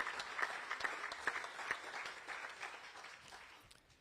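Steady applause from a crowd at an IRONMAN World Championship press conference in Kailua-Kona, Hawaii, many hands clapping at a moderate distance, fading slightly toward the end.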